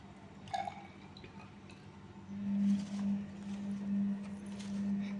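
Water measured from a measuring cylinder being poured into a test tube for an underwater volcano experiment: a faint glassy clink and a few drips, followed by a soft, steady trickle of filling liquid.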